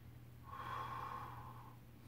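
A single long, breathy exhale or snort-like breath during a tabletop shoulder mobility exercise, close and fairly soft against a quiet room hum, with no talking.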